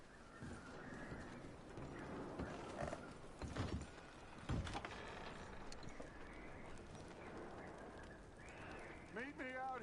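Horse hooves clip-clop through a Red Dead Redemption 2 scene, a steady close patter blended with ambient game sounds and a few sharper knocks, with speech-like sound in the mix.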